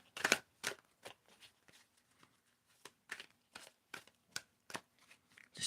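Soft riffling bursts of tarot cards being shuffled, repeated in an uneven rhythm, quiet and close with brief pauses between each pass.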